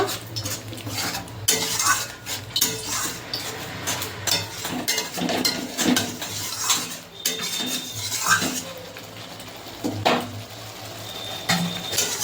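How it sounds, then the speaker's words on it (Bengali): Masala spice paste for a catla fish kalia is stirred and sautéed in a pan, with repeated metal spatula scrapes and clanks against the pan over a faint sizzle, close and continuous, no voices. "এবার মশলাটা ভালোভাবে কষিয়ে নেব"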